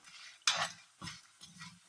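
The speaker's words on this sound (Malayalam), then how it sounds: "മല്ലി പിടിച്ചാൽ അങ്ങനെ പൊട്ടും" Coriander seeds dry-roasting in a pan for sambar, a few soft sharp crackles and pops with quiet clinking spaced about half a second apart, close and faint, no talking.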